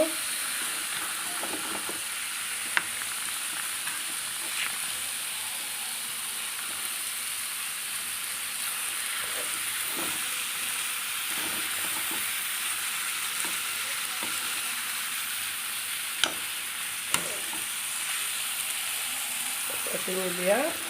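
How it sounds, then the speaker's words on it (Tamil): Country chicken with pepper and coriander leaves frying in a pan, a steady close sizzle and hiss with occasional stirring clicks and scrapes throughout. "இதை கிளறி கொடுக்கணும்"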